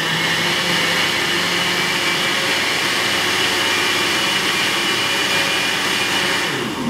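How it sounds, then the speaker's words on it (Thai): A blender runs continuously blending coconut sugar and coconut cream, with a loud, steady motor whine and whirring hum, close up, unbroken until it eases slightly at the very end. "เราก็จะนำไปใส่ลงในเครื่องปั่นครับ"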